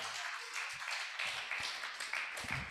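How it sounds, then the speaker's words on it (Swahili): A church congregation claps together for the Lord at a sermon service, dense, sustained applause from many hands filling the space throughout. "Tupigie Bwana makofi kama tuna understand"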